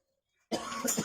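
A single sharp cough bursts out after a moment of silence, close and fairly loud.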